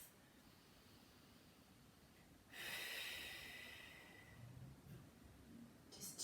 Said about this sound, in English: 4 deep breaths in through the nose and then out through the mouth